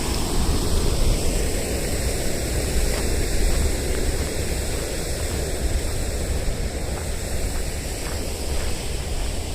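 Steady, broad rushing of flowing water fills the whole stretch, dense and continuous, as the Tamagawa Josui canal in Tokyo churns nearby where it goes underground, with no voices.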